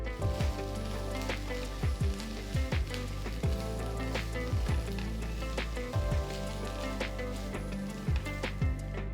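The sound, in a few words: sauteing freshly grated coconut for capsicum chutney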